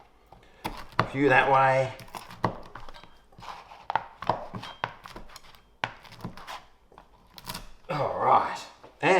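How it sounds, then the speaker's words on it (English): Leftover pizza is cut into fork-sized pieces on a board, with repeated sharp knife chops and crunches in an uneven rhythm, close and fairly loud, while a person speaks briefly between the cuts. "I'll just cut it into fork-sized pieces"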